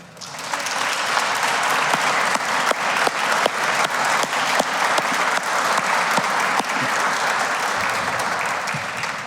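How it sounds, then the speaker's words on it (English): Audience applause at a university alumni association awards ceremony, a steady, loud burst of many hands clapping that swells in quickly and holds for about nine seconds before easing off. "please stand and be recognized with a round of applause"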